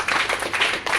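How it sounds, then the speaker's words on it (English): A church congregation claps hands in a quick, dense burst of applause, close and loud. "Clap for Jesus."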